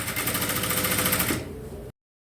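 Sewing machine stitching a 1 cm seam that joins a facing to the main piece of a dress, a loud close rapid even rattle that slows and then stops abruptly, with no talking.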